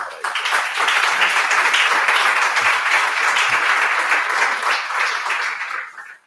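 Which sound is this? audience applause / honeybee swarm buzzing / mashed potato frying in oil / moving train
audience applause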